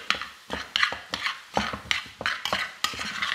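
A utensil stirs shrimp and udon noodles in a pan, making a series of close, uneven scrapes and clacks against the metal, roughly two or three strokes per second.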